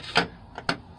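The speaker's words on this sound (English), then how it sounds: "I'm just tightening up this last screw over here" A hand screwdriver tightens a screw on an RV roof vent dome, making three short, close grinding rubs in quick succession with no talk.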